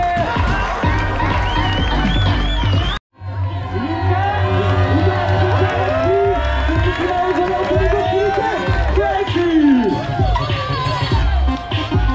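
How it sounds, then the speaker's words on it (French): A crowd at a FISE 2023 trial bike battle cheers and applauds the riders, a dense, loud wash of whoops and shouts that runs throughout, with voices talking over it. "On peut les applaudir tous les autres s'il vous plaît"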